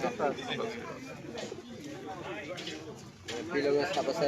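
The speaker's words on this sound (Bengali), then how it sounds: "এই কবুতরটা এটা কি কবুতর গিরিবাজ আমাদের লোকাল গিরিবাজ" Local giribaz pigeons coo in low, rolling bursts close by, amid market chatter and people talking over them at a rainy-day pigeon market in Rajshahi, Bangladesh.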